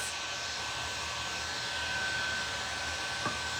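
A hair dryer blows steadily and continuously at close range, drying paint on thrifted home decor, a constant loud whoosh with no talking.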